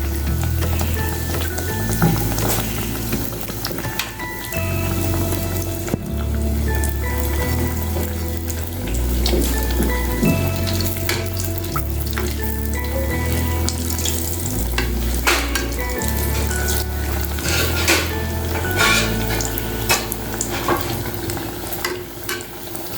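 Chettinad anjarisi paniyaram, a five-rice batter, frying in a paniyaram pan: a steady, fairly loud sizzle with bubbling and light stirring clatter that runs for the whole stretch, with no talking.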